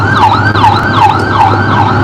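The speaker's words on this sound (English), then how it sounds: "An ambulance!" A loud ambulance siren wails in a repeating rising and falling sweep, close and continuous, over a low engine drone.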